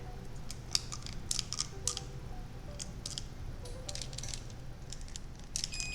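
An oven heating up to 450 degrees while baking Brazilian cheese bread, giving off faint, scattered dry ticks and clicks over a low steady hum in a quiet kitchen.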